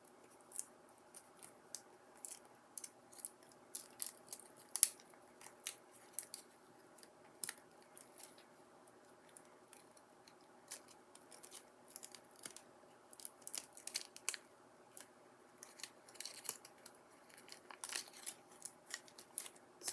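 Sticky paper peeled away from a painted card makes faint, irregular crackles and soft tearing ticks, quiet and close, scattered unevenly over a near-silent background.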